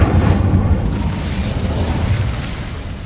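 Confringo and Incendio spell blasts in Hogwarts Legacy: a loud, continuous rumbling roar of fiery explosions with deep booming low end, sustained throughout without clear gaps.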